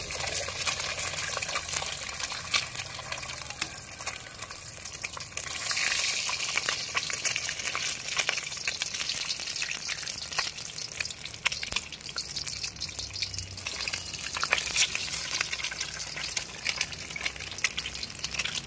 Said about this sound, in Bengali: তেলটা গরম হয়ে গেছে, এবারে একে একে ডিমকে তার ভিতরে দিয়ে দিব